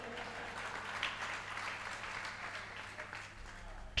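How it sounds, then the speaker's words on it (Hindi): An audience at a Jain religious discourse in Delhi claps and applauds, a faint, distant wash of continuous clapping that runs through the whole moment. "ताली तो बजा दी"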